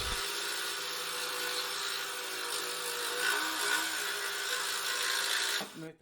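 A bench scroll saw cuts a wooden drawer pull with a steady, continuous buzzing whir that holds close and loud for several seconds before it stops abruptly.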